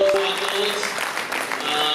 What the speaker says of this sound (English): a big round of applause to all the CEOs